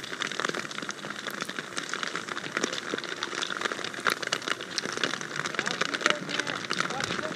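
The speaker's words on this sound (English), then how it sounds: "And you can see how much rain it actually is." Heavy rain falls on an outdoor roller ski race course at a Nordic combined Grand Prix in Oberwiesenthal, a dense, steady hiss of drops with scattered sharper patters under continuous commentary.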